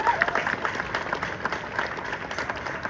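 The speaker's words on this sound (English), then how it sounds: "they deserve a round of applause." A festival opening audience in Ballinamore claps together in sustained, dense applause that holds steady from start to finish, with faint crowd murmur mixed in.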